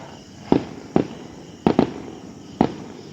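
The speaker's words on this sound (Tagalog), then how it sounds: "Nay fireworks guys" Fireworks go off in sharp, distant-sounding bangs, five bursts at uneven intervals, two in quick succession, with quiet in between.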